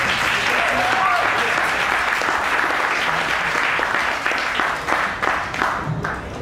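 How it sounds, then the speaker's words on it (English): Audience at a Waffle.js lightning talk breaking into applause, a dense wash of many clapping hands held steady for several seconds, then thinning into scattered louder claps near the end, with some voices underneath. "And then everyone can applaud"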